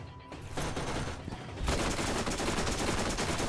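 Gun turrets in the Borderlands video game firing in dense rapid bursts, a loud sustained fusillade that thickens and intensifies partway through, close and continuous with no voices over it.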